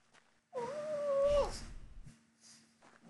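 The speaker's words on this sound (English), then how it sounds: "Sounds like the dog meowed." A puppy lets out one drawn-out, high, wavering cry that sounds like a meow, close by, followed by quiet.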